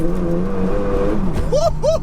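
A 607bhp Seat Leon Cupra pulls hard in third gear, its engine note droning steadily and rising in pitch, loud and close from inside the car, with a couple of short tonal chirps near the end.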